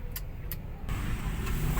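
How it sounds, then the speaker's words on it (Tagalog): Road traffic in heavy congestion in Makati, heard from inside a Toyota Avanza: a continuous low rumble of engines and passing vehicles, fairly close and steady, with no talk. "Ayan, grabe ang traffic niya."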